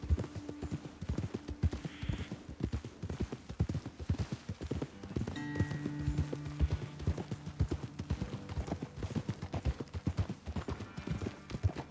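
Horses' hooves clip-clop steadily at a walking pace on a trail in the Western video game Red Dead Redemption 2, several animals moving together, fairly close with occasional faint snorts and no talk.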